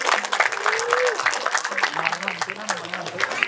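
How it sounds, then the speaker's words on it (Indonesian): An audience at a musical drama show by a performing arts studio claps steadily throughout while a presenter speaks over the applause. "tepuk tangan untuk kita semua hari ini."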